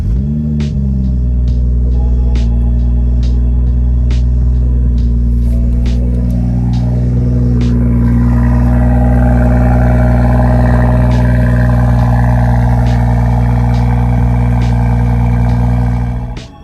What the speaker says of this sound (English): Let's go ahead and fire up the F30 so I have my foot on the clutch here. Turn it on.